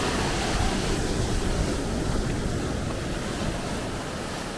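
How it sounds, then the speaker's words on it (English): Sea waves rolling onto the shore at Thatchers Rock, a steady loud broadband wash with continuous surf roar and wind buffeting the microphone, no voices. "The waves are coming in quite a bit now."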